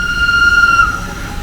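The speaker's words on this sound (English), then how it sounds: "narrow gauge railway on its way to Garmisch-Partenkirchen Central Station" A Zugspitzbahn narrow gauge train passing near Garmisch-Partenkirchen, a steady high whistle-like tone held for about a second over a low rumble of the running train.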